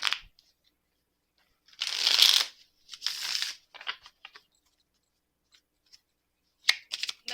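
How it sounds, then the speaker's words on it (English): Tarot cards are shuffled in short, crisp bursts of riffling and sliding, close and fairly quiet, separated by silent pauses, with a few small taps and flicks between them and no talk. "Let's pull some more cards to get some more information"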